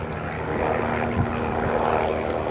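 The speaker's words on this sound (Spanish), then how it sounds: "El helicóptero. Bueno, sí, tenemos un amigo que nos gira alrededor." Helicopter circling overhead, a steady, droning rotor and engine rumble that stays constant throughout, moderately loud and distant without any speech.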